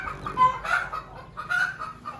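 Newly hatched silkie and crested chicks peeping and chirping in a few short bursts, close by and fairly soft, with no talk.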